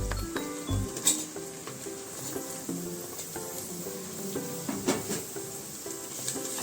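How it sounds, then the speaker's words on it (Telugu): Onion and green chillies fry in a pan after garlic paste, a soft steady sizzle with occasional clinks of a utensil against the pan, fairly quiet and close. "ఇది కొంచెం ఫ్రై అవ్వాలి."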